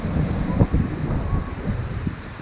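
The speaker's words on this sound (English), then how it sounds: "It was very windy here" Strong wind buffeting the microphone on the Strait of Belle Isle coast in Newfoundland, low rumbling gusts rising and falling with a steady roar underneath.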